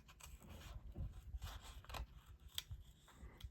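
Sharp scissors snip through paper flower petals in a series of close, crisp cuts with scraping and crunching, quiet and uneven in rhythm.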